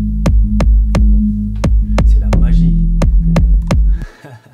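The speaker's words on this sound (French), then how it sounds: "quand je le compresse en sidechain, il va ressortir" A bass track ducked by sidechain compression under a steady kick, so the low bass swells and dips in a pumping rhythm with each of about ten punchy kick hits, loud and alone.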